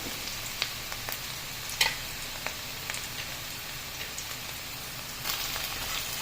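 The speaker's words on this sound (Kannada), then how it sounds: "ಟೊಮೆಟೊ ಹಾಕಿದ್ದೆ ಅದೊಂದು ಸ್ವಲ್ಪ ಫ್ರೈ ಆಗಬೇಕು" Tomato fries in a pan for a mushroom gravy, giving a faint, steady sizzle with scattered light crackles and a few soft clicks of stirring.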